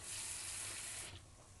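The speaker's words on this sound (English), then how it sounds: "Just put the water inside like this and leave it aside." Tap water runs steadily into a bowl while preparing a banana and tapioca dessert, a loud close hiss for about a second before it tapers off as the flow stops.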